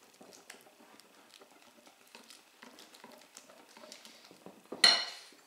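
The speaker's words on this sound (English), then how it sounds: "Whisk." Rosette batter of milk and flour whisked in a bowl, a soft rapid patter of the whisk against the sides with light clinks, ending in a louder scrape and clatter near the close; no talking.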